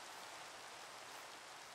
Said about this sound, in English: I'm in the rain.